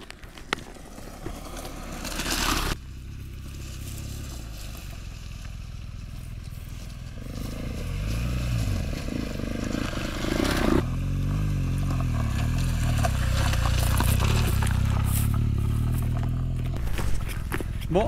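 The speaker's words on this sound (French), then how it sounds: "Ah j'entends un moteur qui arrive." A KTM adventure motorcycle engine drawing closer on a trail, its low rumble building steadily from faint to fairly loud over several seconds and holding as the bike nears, with rustling and scraping sounds nearby.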